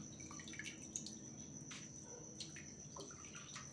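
Soaked urad dal sits in a sieve while excess water drains, heard as quiet, scattered drips and small trickles over a soft, steady background, close by with no talking.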